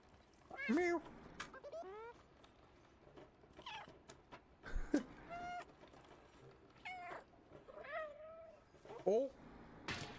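A cat in the video game Stray meows repeatedly, several short and drawn-out calls spread unevenly, close and clear, while a person talks between them.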